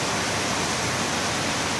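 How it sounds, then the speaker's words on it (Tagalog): Heavy rain pouring down hard during a pigeon race in bright sunshine, a dense, continuous hiss of downpour with no voices. "Ang tindi ng sikat ng araw pero ang tindi din ang buhos ng ulan"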